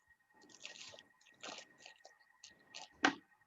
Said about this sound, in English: put these fish into the simmering basket like this. Make sure there's room for water to go around the sides.